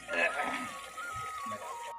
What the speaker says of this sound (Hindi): मैं डाल दिया पानी।